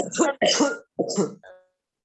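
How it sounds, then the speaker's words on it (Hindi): Three harsh coughs in close succession, loud and near, followed by a short throaty rasp. "किसको जुकाम हो रखा है, खांसी?"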